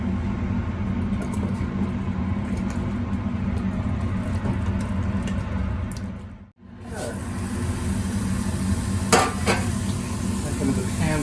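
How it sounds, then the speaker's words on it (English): Onions and carrots stirred in a soup pot, with a steady close-up sizzle throughout, a brief dip in the middle, and a few light clinks of a utensil against the pot. "So into the soup go our onions and our carrots, and we'll just give it a good stir."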